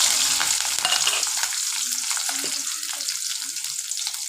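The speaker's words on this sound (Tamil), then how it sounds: "நல்லா வதக்கி விடுங்க." Mustard seeds, green chilli and shallots fry in hot oil, giving a close, bright sizzle with scattered crackles and pops, loudest at the start and easing slightly, with no voices.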